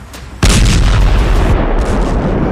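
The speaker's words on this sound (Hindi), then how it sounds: "बम धमाका।" A car bomb blast near the Red Fort in Delhi bursts out as one sudden, very loud, broadband boom. It is followed by a sustained roaring rumble that barely fades.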